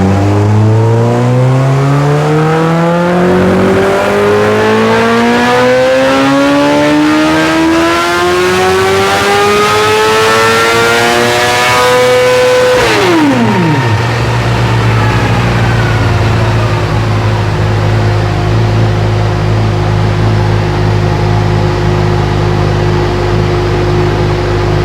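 A 2021 Honda CBR1000RR-R SP superbike engine screams on a dyno, pitch climbing steadily through a long loud rev before the throttle snaps shut and it drops back to a rough idle, no voices present.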